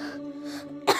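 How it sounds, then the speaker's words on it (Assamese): One short, close cough bursts out at the very end after a steady low hum. "আৰে ইমান কাহিছ পানী অকণ খাই দেচোন"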